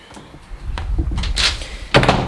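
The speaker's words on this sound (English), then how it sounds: "Let me close this door." Household door being closed in a hallway during cleaning: some light handling knocks, then a firm thud and a final latch click, close and fairly loud, with no talking.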